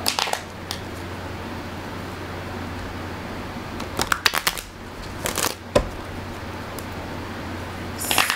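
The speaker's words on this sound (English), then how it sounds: "we're going to go through and shuffle these" Tarot cards are shuffled in a few quick bursts of riffling and snapping over a low steady hum, close by.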